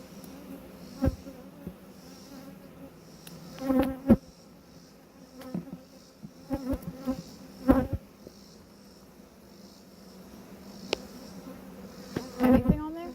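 Honey bees buzz around a beehive, close and intermittent: individual bees drone past in short swells over a faint steady hum, with occasional clicks and handling noises.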